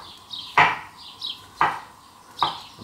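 A knife cuts a mushroom into thin slices on a board, three crisp chopping taps spaced about a second apart, close and alone.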